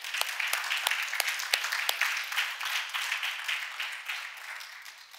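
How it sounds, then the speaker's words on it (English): A church congregation claps for the Lord during a sermon, a dense burst of hand clapping with a few sharp louder claps early on, then fading gradually over several seconds. "Somebody give the Lord a hand clap."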